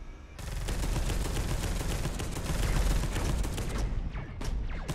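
An automated turret fires in the video game Deathwing, a dense rapid stream of gunshots that starts abruptly and hammers on steadily for several seconds before a few last separate cracks near the end.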